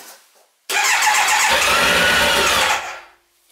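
A Kawasaki ZX-9R motorcycle cranks and catches during an emergency start, a sudden loud, rough engine roar that holds steady for about two seconds before cutting off and fading.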